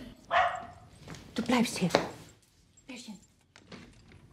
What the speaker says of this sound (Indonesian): Anjing yang terus-terusan menggonggong